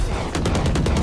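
Pistol fire in the tactical shooter game Valorant, a quick burst of several close, loud shots in rapid succession over a dense background.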